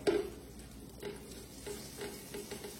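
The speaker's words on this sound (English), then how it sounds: "We're gonna add our fresh chopped garlic" Fresh chopped garlic sizzling in olive oil in a sauce pan: a soft, steady frying hiss with a few faint stirring clicks, heard close and quiet without talking.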